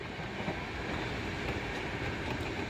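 An overnight passenger train on the way to the Mahakumbh at Prayagraj runs along the rails, giving a constant, fairly soft rumble and rattle of the moving carriage with no talking.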